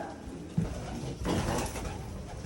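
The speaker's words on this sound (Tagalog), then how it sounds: "Kita mo, ang lalaki ng mga kalapati dito." Low, soft cooing from racing pigeons in a loft amid a busy background of fluttering and shuffling, with a louder burst of activity partway through.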